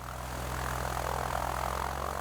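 Steady propeller drone from a small ski-equipped airplane in the Canadian Arctic, a constant moderately loud engine tone holding even throughout, with no voices.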